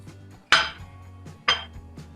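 Peeled, cut apple pieces dropped into a grinder jar, two sharp hard clunks against the jar about a second apart, close and clear with no talking.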